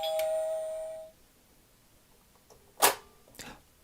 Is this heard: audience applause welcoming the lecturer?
no